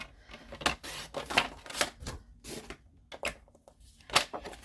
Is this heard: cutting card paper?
yes